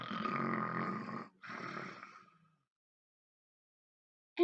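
A storyteller's voice imitating a wolf snoring: two long rasping snore sounds, one after another, followed by silence and a short sharp noise at the end.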